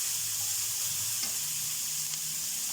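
Onions frying in a pan while being stirred, a steady bright sizzle with faint scraping of the spoon under it, no voices.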